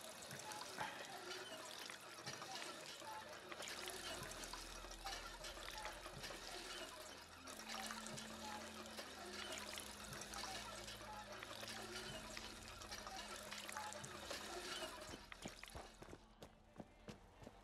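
Water being drunk in Fallout 4, a steady, loud pouring and trickling of liquid that runs for most of the stretch over busy game ambience before tapering near the end.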